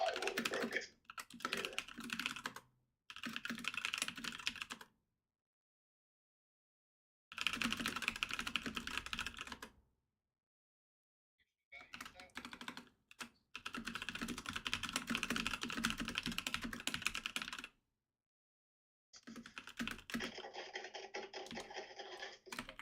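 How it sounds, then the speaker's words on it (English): Fingers type rapidly on a mechanical computer keyboard with clicky switches, bursts of quick key clatter broken by several silent pauses, close and moderately loud with no talking. "My keyboard is just more advanced than your keyboard, okay? It's got the mechanical switches"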